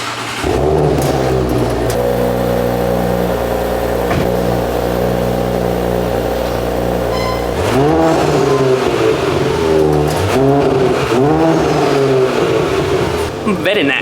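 A 2021 Audi S5 Cabriolet engine drones steadily on a test drive, then swells into rising and falling revs as it accelerates through the gears, loud and close from inside the cabin.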